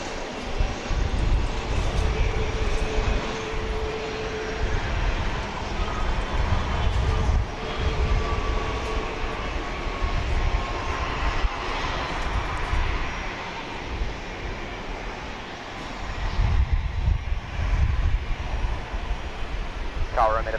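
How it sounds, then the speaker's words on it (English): A JSX airplane arriving at Dallas Love Field at night after a flight from Houston Hobby, a continuous distant engine roar and rumble that holds steady for about twenty seconds, with faint radio chatter beneath it. "This is flight 287 arriving from Houston Hobby Airport"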